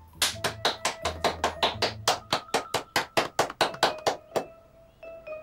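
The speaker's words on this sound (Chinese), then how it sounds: "鼓掌，以示祝贺。" A few people at home clap to congratulate a vote result: around twenty crisp, evenly spaced claps close by in a steady rhythm, ending with a faint lingering tone.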